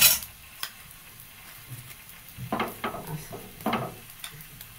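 Aloo paratha cooks on a griddle as ghee is spread over it, giving a faint sizzle with soft scraping and dabbing strokes and a few light clicks, no voices.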